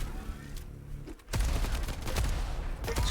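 A rapid burst of video game machine gun fire comes from a one-on-one duel match. Brief shots are heard first, then a dense, loud stream of gunfire fills the rest.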